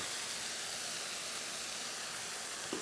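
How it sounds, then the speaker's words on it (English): A steady, broad hiss of white wine sizzling in a hot pan with rice, continuous and even throughout, with a faint clink near the end. "And that's the sound you want to hear, that sizzle."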